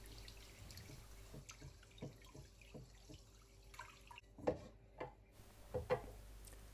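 Rice stirred by hand in a bowl of washing water to rinse off starch, soft sloshing swirls and a few sharper splashes, close and quiet with no talk.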